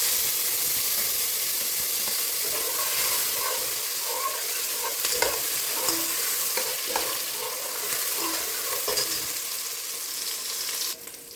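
Chopped onion sizzles loudly in a hot pan for a gombo sauce while a spoon scrapes and stirs through it in irregular strokes, a dense close hiss throughout.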